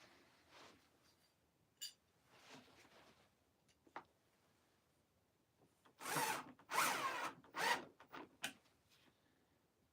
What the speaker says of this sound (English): Drill the next hole.